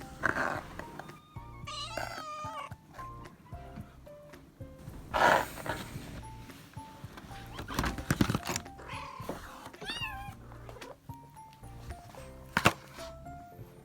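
Several cats meow and yowl close by, overlapping in short rising cries, with small clicks and scuffles between calls, while being offered homemade cheese.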